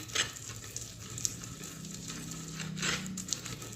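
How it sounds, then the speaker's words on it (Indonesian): Oil stirred into sambal in a hot pan gives a steady close sizzle of frying, with soft scraping and stirring strokes throughout. "Lanjut saya aduk minyaknya sampai rata dengan si sambal ini"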